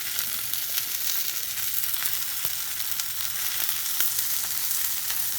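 A Home Bargains sirloin steak sizzles steadily in a hot frying pan, a dense continuous crackle and spit with occasional sharper pops, close and fairly loud throughout with no talking.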